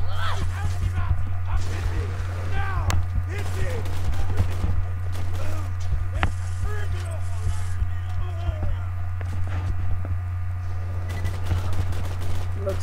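A Thompson-style submachine gun firing .45 ACP in a co-op video game lets off rapid, continuous automatic bursts across the whole stretch, dense and close, over a steady low hum with voices talking underneath.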